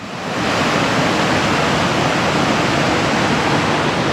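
Loud, steady roar of the rushing Malling Nallah stream blocking a mountain road, a dense continuous wash of churning water close by with no letup, no voices.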